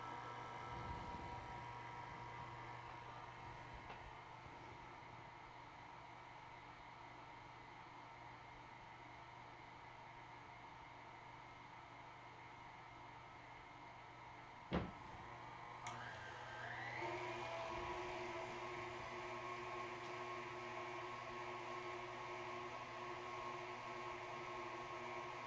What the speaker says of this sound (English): So we will start by turning it on to stir and then gradually adjust up to a maximum of 4